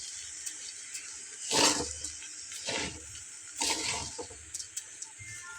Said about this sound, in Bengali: তো বন্ধুরা চালটাকে খুব ভালোভাবে নেড়ে চেড়ে ভেজে নিচ্ছে।